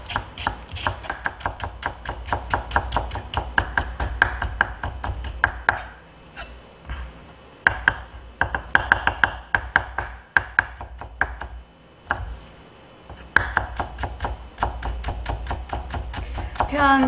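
A kitchen knife mincing celery on a cutting board for a hamburger sandwich, rapid close chopping taps in dense runs broken by short pauses, continuing throughout.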